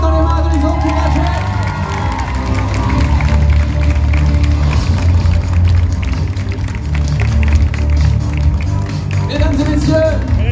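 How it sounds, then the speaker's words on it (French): Audience at a cosplay parade in St-Malo clapping and cheering, a dense, continuous crowd noise of applause that fills the whole stretch, with an announcer speaking over it. "Vous avez le droit d'applaudir, de taper dans les mains, de les encourager."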